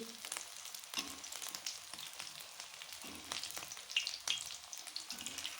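Aloo tikki potato patties seasoned with salt, chilli and coriander fry in a pan with a quiet, crackling sizzle and scattered small pops and clicks throughout.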